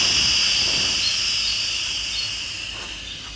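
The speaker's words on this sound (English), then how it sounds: "what I'm going to do is just let whatever remaining pressure is in the pot out right now" An Instant Pot cooking corned beef and cabbage vents its remaining steam pressure in a loud, continuous hiss. The hiss holds steady, then gradually fades toward the end.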